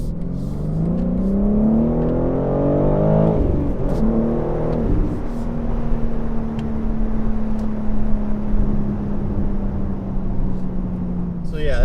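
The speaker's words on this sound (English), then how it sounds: "exhaust on the S58 sounds insane" BMW G80 M3 with the S58 engine accelerating, its exhaust rising in pitch through a strong rev before settling into a steady drone, loud and close from inside the car.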